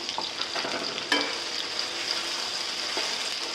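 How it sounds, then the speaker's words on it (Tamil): Ground masala sizzles and fries steadily in hot oil, with a brief stir partway through; close, continuous crackle with no talking. "நல்லா இந்த மசாலா வந்து வதக்கி விட்டுருக்கேங்க"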